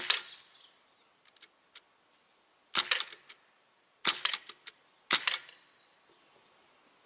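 A Sig Sauer MCX air rifle with open sights fires at a paper target in sharp, snappy single shots, some followed by a quick second crack, separated by quiet pauses, with a faint bird chirp near the end.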